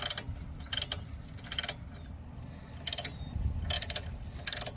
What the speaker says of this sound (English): Again, this is 18 millimeter wrench. It's ready to loosen up.